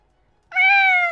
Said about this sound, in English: I can hear the cat sounds.